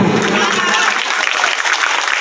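A crowd at a jatra stage performance bursts into loud, dense applause, with many hands clapping close by and the sound slowly easing off.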